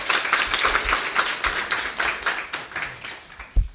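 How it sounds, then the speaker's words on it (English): An audience claps in a round of applause at a growth summit, a dense crackle of many hands held steady for several seconds before a final louder clap near the end. "So please give him a round of applause."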